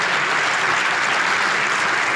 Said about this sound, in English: let's give her a round of applause, right?